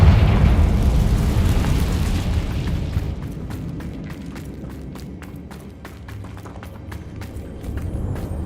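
A Confringo spell explosion in the Hogwarts Legacy video game: a loud, deep boom that rumbles and fades over several seconds, followed by scattered crackling debris and small pops, with no talk.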